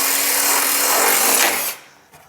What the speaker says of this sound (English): drill out the markings we just made so that we can drop the bolt in and secure the bar to the bumper